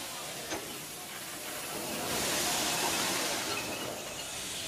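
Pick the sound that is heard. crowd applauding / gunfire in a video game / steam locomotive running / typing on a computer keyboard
steam locomotive running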